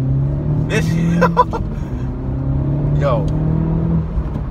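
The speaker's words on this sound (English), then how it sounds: "we're taking off in the 2018 Honda Civic Type R" A 2018 Honda Civic Type R pulls away with a steady, mid-pitched engine drone heard from inside the cabin, while people talk over it.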